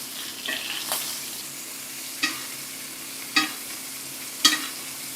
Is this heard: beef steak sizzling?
yes